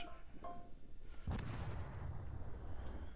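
Naval gunfire from a cruiser in the video game World of Warships, a heavy boom followed by a rumbling roll of blast noise, loud and close, with no talk.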